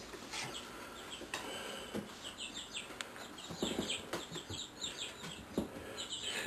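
Backyard chickens cluck and chirp in short, scattered bursts at close to middle distance, over a soft outdoor background with occasional handling noises and no speech.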